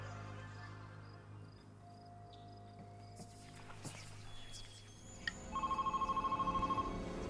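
Landline telephone inside a house giving a run of rapid repeated rings near the end, after quiet room noise with a few knocks and shuffles.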